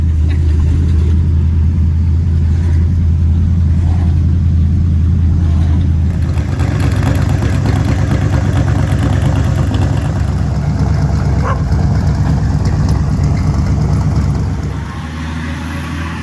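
A Mercury Comet with a swapped-in 302 V8 runs loud and close, its deep, steady rumble idling with slight rises in pitch and tone before easing off near the end; no one speaks.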